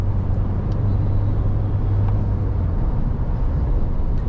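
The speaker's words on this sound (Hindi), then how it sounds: "इसीलिए मैं छोटे गियर में ज़्यादा खींच रहा हूँ गाड़ी" A car pulls hard in a low gear while its diesel particulate filter cleans itself, producing a steady, droning engine hum with road rumble heard from inside, constant and unbroken with no talk.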